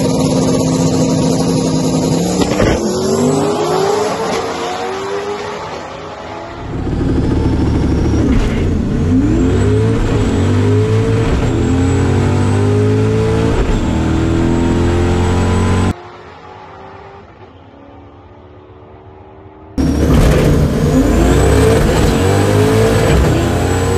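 A Ford 363 stroker drag car with turbo boost and a two-step launches on a test pass, its engine revving hard and roaring through the gears in long loud pulls, with a sudden drop-out before the roar resumes.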